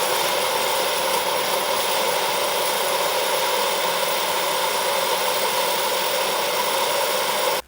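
A Turbine Thunder Mustang's turbine engine runs with its propeller brought up to fine pitch, making a loud, steady, unbroken roar with a high whine on top that holds constant and then cuts off abruptly at the very end.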